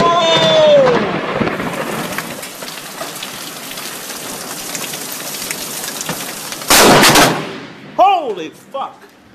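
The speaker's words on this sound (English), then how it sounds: "You know how close that lightning was?" Steady heavy rain under excited voices during a violent lightning barrage, then a sudden close, loud thunder crack with a sharp broadband burst, followed by shouted reactions.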